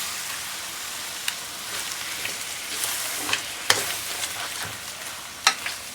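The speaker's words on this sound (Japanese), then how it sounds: "小麦粉がダマにならないように慌てず少しずつ混ぜていきましょう。" A flour roux being stirred in a pot while soup stock is poured in bit by bit, with a soft sizzling hiss and scattered light taps of the utensil against the pan.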